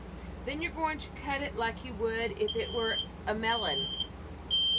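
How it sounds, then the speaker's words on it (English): A household smoke alarm set off by steam from canning pumpkin beeps in short high-pitched chirps in the background while someone speaks over it in a kitchen. "Apparently, steam does the fire alarm as well."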